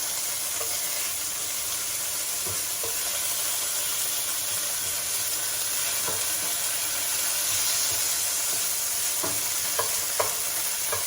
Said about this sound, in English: I'm lowering the fire, and I'm just stirring everything around, and the anchovies will melt.